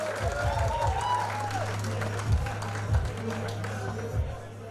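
An audience at a live standup comedy competition claps and stamps its feet for a comedian, a steady wash of applause broken by heavy, irregular thuds of stamping feet.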